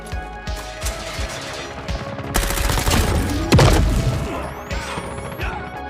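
A QQ9 submachine gun in COD Mobile fires in loud, rapid automatic bursts with sharp cracks and impacts, dense and close, with no talking.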